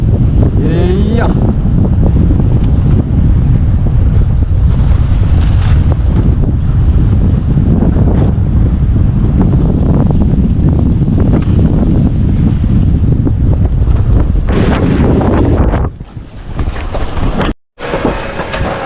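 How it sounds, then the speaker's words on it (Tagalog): Strong wind and large sea waves buffeting a small boat at sea during a squall, a loud continuous roaring rush that dominates throughout before briefly dropping near the end. "Aba, malalaki ng alon mga soyo."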